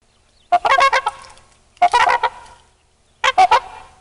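Three bursts of loud honking swan calls, each a rapid series of trumpeting notes, separated by short pauses, close and clear.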